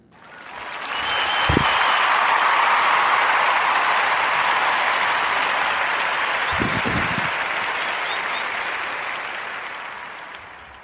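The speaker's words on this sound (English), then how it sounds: "Give it a warm narrative round of applause for Mrs. Shaka Khan." Applause from an audience for Chaka Khan, given on a podcast: a broad wash of clapping fades in, holds steady and full for several seconds, then tapers off, with a couple of brief low thumps.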